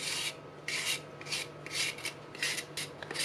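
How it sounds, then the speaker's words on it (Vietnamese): Cabbage being shaved into thin shreds on a handheld shredder or mandoline for a Mekong Delta noodle dish, heard as a steady series of about eight rhythmic rasping strokes, close and fairly loud, with no talking. "Sau đó thì mình bào. Bào giống như dạng như là rau muống bào."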